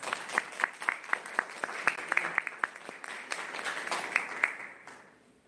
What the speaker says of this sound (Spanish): damos un fuerte aplauso a Fede Abad